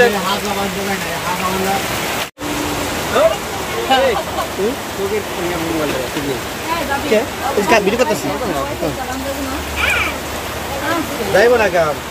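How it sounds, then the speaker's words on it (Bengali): Steady, dense rain hisses throughout while people talk over it, with one very brief dropout near the start. "বৃষ্টিটা হচ্ছে প্রচন্ড"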